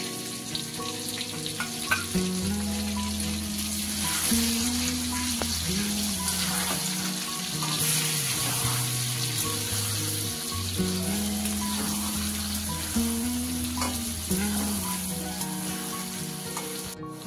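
Pointed gourd frying in oil as poppy seed and green chilli paste is added, a loud continuous sizzle with stirring scrapes throughout, close up and without speech.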